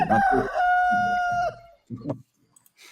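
A rooster crows loudly and close by in one long drawn-out call, followed by a couple of short trailing notes and brief quieter sounds.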